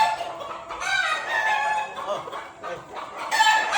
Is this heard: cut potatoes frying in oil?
no